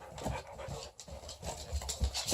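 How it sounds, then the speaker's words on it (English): Dogs playing nearby with heavy panting and scuffling, irregular thumps and rustles mixed with quick breaths at a moderate level. "Sorry, I got some dogs playing, and it's hard to ignore."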